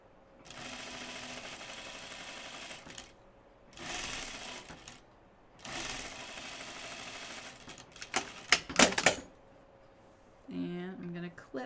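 A domestic sewing machine stitches a quarter-inch seam in double gauze fabric, running in several bursts of steady whirring with pauses between them and some handling clatter, with someone speaking briefly near the end.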